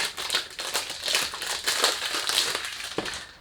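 Crinkling, crunching packaging close to the microphone while unboxing an 18ml Armaf Club de Nuit Man perfume oil, with steady rustling and several sharper crackles throughout.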